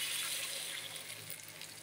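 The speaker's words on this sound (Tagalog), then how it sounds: "Mainit na tubig na po nilagay ko para dali maluto." Hot water poured into a pot of egg and chicken tinola soup, a steady broadband liquid splash with no talk, even and fairly close.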